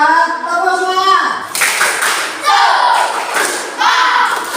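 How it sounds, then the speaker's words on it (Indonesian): A group of children chants and claps a rhythmic spirit clap before recess, loud patterned bursts of hand claps mixed with their voices, close and energetic. "Sebelum istirahat, tepuk semangat."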